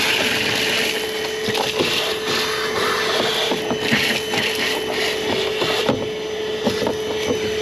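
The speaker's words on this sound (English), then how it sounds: "So we'll grab our vacuum, and we're going to vacuum this guy out real quick." A vacuum cleaner runs continuously inside the rear door of a 2023 Jeep Wrangler, clearing out broken glass: a loud, steady motor whine and airy rush with scattered rattling bits of debris.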